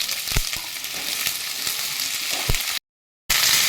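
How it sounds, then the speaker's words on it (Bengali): Potatoes and vegetable stems frying in oil, giving a steady close sizzle with scattered crackles and stirring knocks, then a brief cut to silence before the frying sound returns, with no voices. "আলু আর ডাঁটা একটুখানি ভেজে নেব"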